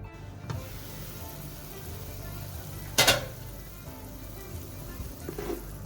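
Rice water boils in a covered pot for Hyderabadi bagara rice, giving a soft steady bubbling hiss, with a sharp metallic clatter midway and a fainter knock near the end.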